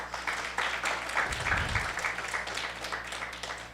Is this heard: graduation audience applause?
yes